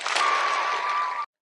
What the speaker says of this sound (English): Christian, Christian, I'm probably going to play the applause sound a lot.